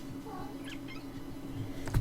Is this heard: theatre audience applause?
no